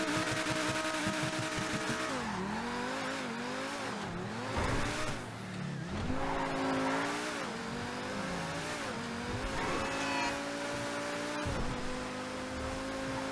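A T20 sports car in GTA 5 revs hard, its engine pitch climbing and dropping through repeated bursts, with tire squeals and skidding mixed in, loud and continuous, with no talking.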